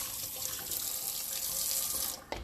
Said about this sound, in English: you're going to rinse your cup